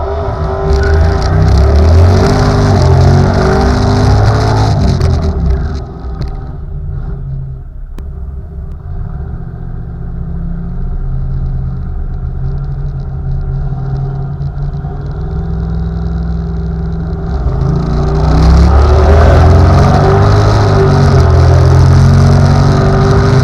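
A turbocharged small-block Ford Fairmont drag car on a dragstrip, its engine roaring loud and close through a long pass, dipping briefly to a lower drone midway before surging back to a full-throttle rumble, with no talk.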